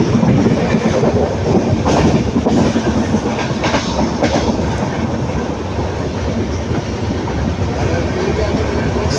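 A passenger train between Erode and Bangalore picks up speed, its steady rumbling roar and rhythmic clickety-clack of wheels over rail joints filling the carriage, heard close with no talking.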